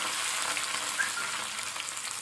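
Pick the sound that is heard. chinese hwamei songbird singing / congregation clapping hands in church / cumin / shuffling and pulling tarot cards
cumin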